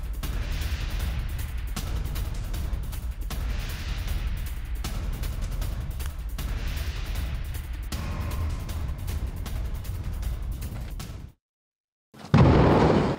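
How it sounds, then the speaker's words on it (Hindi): Explosions from Israeli airstrikes in Beirut boom and rumble in a loud, sustained low roar, followed by a brief dropout and then a sudden harsh blast of noise. "यहाँ पर एयर स्ट्राइक्स की गई है निशांत, और देखिए बड़ी एयर स्ट्राइक्स दोबारा से की गई है"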